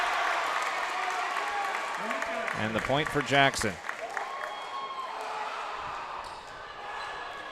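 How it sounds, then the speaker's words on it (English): A loud crowd cheers and claps in a high school volleyball gym, with a ball bounce and an announcer's voice briefly over the sustained crowd noise. "This is a very loud crowd for high school volleyball."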